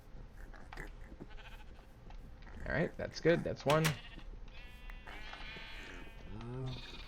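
Sheep bleat loudly in a Minecraft-style survival game, TerraFirmaPunk, a cluster of wavering calls in the middle and another later, while someone talks briefly.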